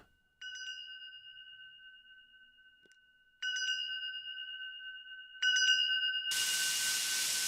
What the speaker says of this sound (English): Hear a chime.